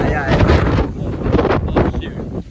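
Hurricane Milton wind gusting at 50 to 58 mph buffets the microphone in loud, continuous roaring bursts that swell and ease over a few seconds.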